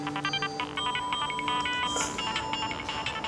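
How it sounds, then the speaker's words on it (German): A mobile phone rings with a bright, repeating electronic melody that plays steadily throughout, fairly close and clear, with no talking. "Mein Handy klingelt."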